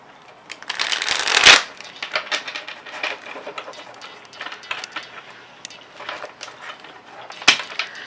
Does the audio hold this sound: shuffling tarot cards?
yes